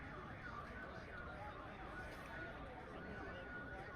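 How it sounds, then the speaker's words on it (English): A car alarm is played over and over at a street protest, its faint warbling tones wavering in a continuous loop beneath crowd noise and voices. "They're playing a car alarm for the last hour."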